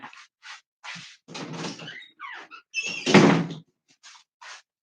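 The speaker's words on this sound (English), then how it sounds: "one of my cats was scratching at the door" A cat scratching at a door indoors, heard as a series of short, irregular scraping and rattling bursts with brief gaps between them, fairly quiet and close by, with no talking.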